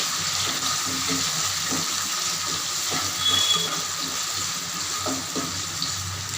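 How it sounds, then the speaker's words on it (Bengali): Carrots fry in hot oil in a pan with cinnamon and bay leaf for vegetable fried rice, a steady close sizzle with occasional stirring clinks and scrapes, without talking. "গাজরটা একটু ভাজা ভাজা করব"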